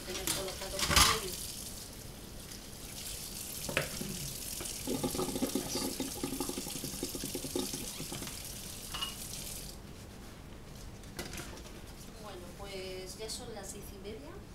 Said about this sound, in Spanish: me voy a poner a fregar los platos